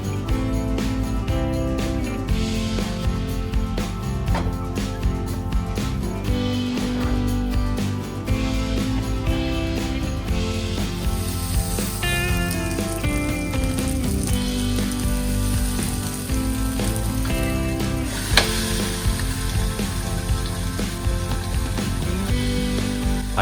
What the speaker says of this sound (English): I'm switching the grill to the cooking mode at 200 degrees Celsius for 7 minutes and placing the